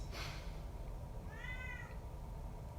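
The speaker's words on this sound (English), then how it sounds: "Sorry if you hear my cat meowing at the door." A house cat gives a single clear meow at a door in a quiet room, standing alone over faint background hiss.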